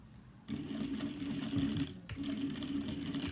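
A sewing machine stitches a bag seam at about a centimetre allowance, starting up with a steady whirring run, a brief hitch partway, then continuing evenly, fairly quiet and alone.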